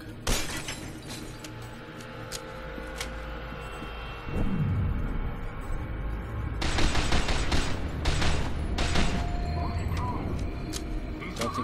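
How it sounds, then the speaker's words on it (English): Gunfire from the video game F.E.A.R. 2 rattles in scattered shots and bursts, swelling into denser, louder volleys with shattering impacts, under a player's occasional talk. "I'm being shot at."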